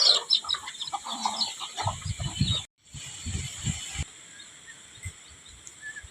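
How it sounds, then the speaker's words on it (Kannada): Chickens cluck in short, soft bursts near a farmyard feeding spot where grain has been scattered, several birds calling irregularly with brief pauses and light background noise, no talking. "ಇಷ್ಟು ಕೋಳಿಗಳು ಬಂದು ನೋಡ್ರಿ."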